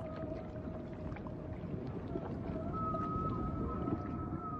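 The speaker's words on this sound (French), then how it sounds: "Année après année, les baleines inventent de nouveaux chants." Long, tonal humpback whale song moans and rises over a steady wash of underwater noise, one drawn-out note sliding higher near the end.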